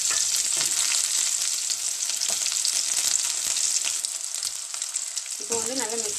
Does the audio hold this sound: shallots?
yes